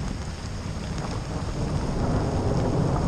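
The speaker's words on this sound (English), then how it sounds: "There's the thunder." Low rolling thunder rumbles through steady rain in a forest in Australia's Snowy Mountains, a continuous deep roar that swells slightly toward the end.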